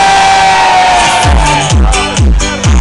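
An outdoor crowd at a Radio 105 event in Bergamo Alta shouts and cheers loudly for a T-shirt about to be thrown. The mass of voices swells in several uneven surges over a few seconds.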